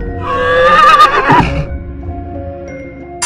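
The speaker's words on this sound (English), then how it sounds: "H is for horse." A horse lets out a single loud, close whinny that quavers and drops in pitch, followed by quiet ringing background tones.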